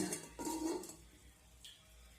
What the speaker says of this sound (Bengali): এবার আমি ঢেকে দেবো পাঁচ মিনিটের জন্য